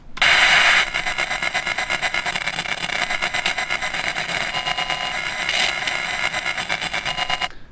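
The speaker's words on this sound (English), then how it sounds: "fifth one is like radio frequency phone interference on speakers." Radio frequency phone interference on speakers: a loud, rapidly pulsing electronic buzz that chatters steadily for several seconds, with a brighter burst at the start and another near the end.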